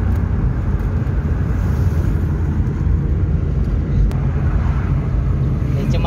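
A car cruising along a road on the way to a farm, with a steady low engine and tyre rumble that stays constant throughout, close and fairly loud, no talking.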